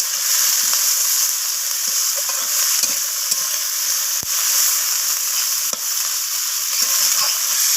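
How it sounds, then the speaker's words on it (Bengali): Potatoes, bitter gourd, onion and leafy green stalks fry with a loud, constant sizzle while a spoon stirs and scrapes now and then, close up. "শাকের ডাঁটাগুলোও আমি আলু উচ্ছে পেঁয়াজের সাথে নাড়াচাড়া করে ভাজা ভাজা করে নিচ্ছি"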